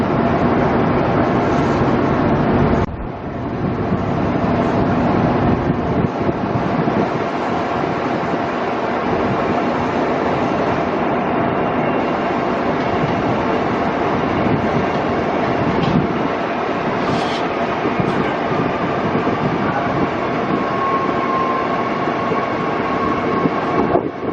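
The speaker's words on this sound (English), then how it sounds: "Trains coming in here, through here all the time" A train pulls into a busy Queensland station on the Brisbane to Tully line, with a loud, steady rumbling drone of engine and rolling wheels close by and a brief high squeal near the end.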